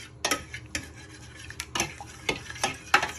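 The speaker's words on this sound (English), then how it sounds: "with a fork, you want to give them a little stir" A fork knocks and scrapes against a pot while stirring two beef stock cubes in water for Italian beef soup, giving a series of sharp, close clinks spaced irregularly over a few seconds.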